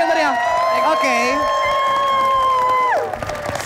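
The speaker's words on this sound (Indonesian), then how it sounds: "Tepuk tangan sekali lagi yang meriah" A studio audience on an Indonesian game show cheers and claps for three contestants, a lively crowd roar under bright, sustained musical tones that cut off near the end.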